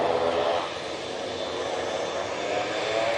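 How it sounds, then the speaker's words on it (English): An ATR 72 turboprop airliner departs Manchester Airport, giving off a steady, broad engine roar that holds at an even level throughout, heard from a distance with no other sounds. "Off to Newquay, we're going to go with this ATR 72."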